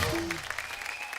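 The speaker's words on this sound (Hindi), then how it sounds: "जोरदार तालियां शिखर और पृथ्वी के लिए।" A television studio audience on The Kapil Sharma Show claps loudly for cricketers Shikhar Dhawan and Prithvi Shaw, a short, dense burst of applause over faint music.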